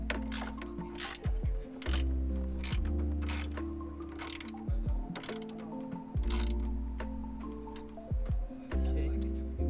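Bolts on a BLITZ strut tower bar are tightened with a ratchet, giving bursts of rapid metallic clicking close by over a steady tonal background hum.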